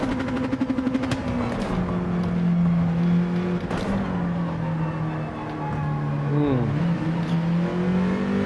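A Nissan GT-R GT3 race car's engine drones loudly at the Sardegna circuit in Gran Turismo 7, holding high revs with pitch drops at gear changes and a brief dip and climb near the end.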